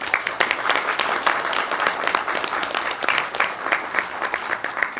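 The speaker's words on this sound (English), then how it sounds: "So big round of applause for Jenny." Audience at a game developers' panel breaks into a sustained round of applause, dense steady clapping from a room of people with no speech over it.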